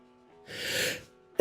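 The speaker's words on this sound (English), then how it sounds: "Gotta sneeze." A single person sneezes once, a breathy half-second burst rising out of quiet room tone, close to the microphone.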